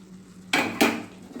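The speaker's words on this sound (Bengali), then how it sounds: "এবার দিয়ে দেব ভেজে রাখা আলুগুলো" Fried potatoes dropped into a pan of simmering banana flower curry with chana dal: two or three quick clattering thuds and scrapes against the metal pan over a low hum, close and brief, no talking.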